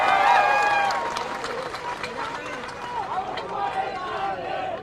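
An audience at a political rally in Maharashtra breaks into applause, a loud wash of clapping and crowd noise that starts strong and gradually thins, with voices mixed in.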